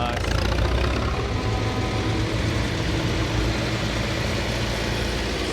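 Tractor engines idle at a charity tractor run with a dense, steady mechanical rumble that continues without break.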